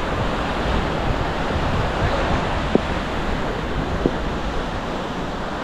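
Sea waves at Paysawan Beach in Bagac, Bataan, a constant broad roar of surf mixed with heavy wind buffeting the microphone, with a couple of faint clicks and no talking.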